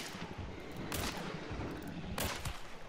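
Gunfire in the game Hunt: Showdown, two sharp shots about a second apart, each a broad burst standing out over a steady, busy game backdrop.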